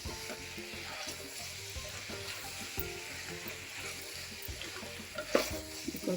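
Chilli powder being stirred into vegetable sambar in a pan, giving a steady soft sizzle with scraping stirs throughout and a louder clatter near the end, no talking.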